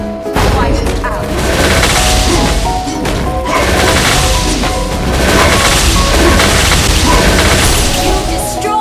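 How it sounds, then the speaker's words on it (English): Loud, dense crash and boom effects as a turret is destroyed in the Mobile Legends video game, layered over continuous game music and announcer-style voice lines. "You destroyed a turret!"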